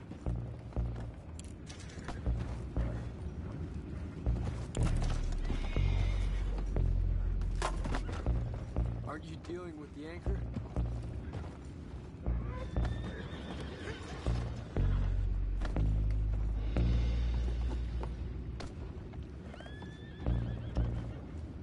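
In the video game Red Dead Redemption 2, horses whinny and neigh repeatedly over clip-clopping hooves and busy background noise, with a brief line of speech mixed in.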